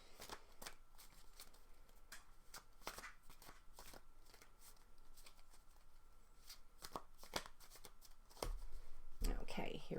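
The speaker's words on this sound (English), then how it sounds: "I'm just going to give them a quick shuffle." A deck of tarot cards is given a quick shuffle, with crisp, rapid riffling flutters repeating close by at a soft level, and a brief louder rustle near the end.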